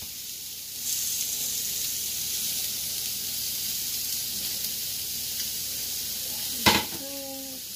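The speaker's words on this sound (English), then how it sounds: "Now I'm going to stir in the peas." Peas are stirred into paella rice with shrimp and chorizo in a hot pan: a steady, close sizzle and hiss runs throughout, and a single sharp utensil knock against the pan comes near the end.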